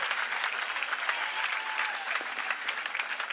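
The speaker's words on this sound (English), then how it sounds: "Let's give them a big round of applause, ladies and gentlemen." Spectators at a men's bronze medal match of the FIVB Beach Volleyball World Tour in Manila applaud, a dense continuous wash of clapping at moderate level with a faint tonal sweep partway through.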